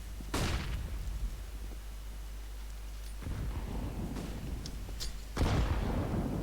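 Grenade blasts go off during a Counter-Strike match, with three booming bursts spaced a few seconds apart over a low, steady rumble, each thudding heavily and fading into a dull roar.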